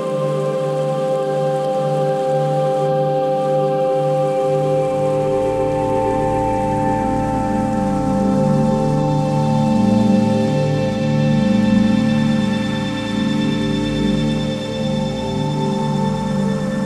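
Heavy monsoon rain pours steadily on a surface, a dense, continuous wash of drops with no talk, loud and sustained throughout, swelling slightly toward the middle.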